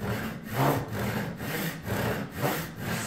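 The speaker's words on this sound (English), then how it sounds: "the saw is just going to naturally drop in there. I don't like sawing when I'm not looking at my line" Hand saw cutting walnut for an axe wedge, with steady back-and-forth strokes about twice a second, close and clear with no talk.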